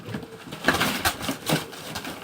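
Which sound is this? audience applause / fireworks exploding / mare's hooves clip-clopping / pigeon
pigeon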